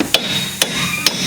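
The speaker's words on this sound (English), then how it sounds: "just tap those bolts back until you see them pop loose" Three sharp metallic taps of a ball peen hammer knocking strut bolts loose on a 2007 Chevrolet Equinox front strut, evenly spaced about half a second apart, close and crisp.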